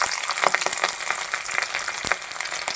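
Garlic frying in hot coconut oil with popped mustard seeds for a prawn roast gives a steady, dense sizzle, broken by a few sharper crackles and pops and close-up stirring knocks. No one speaks.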